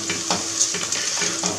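Chopped onions sweat in a pot at the start of a Corsican fish stew, giving a steady close sizzle with soft stirring scrapes and clinks, no voices.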